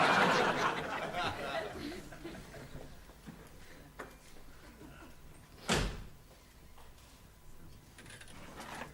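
A house door opens in a 1975 British sitcom scene, with a sharp knock-like thud of the latch and door near the middle, set against a faint room backdrop and a burst of laughter at the start.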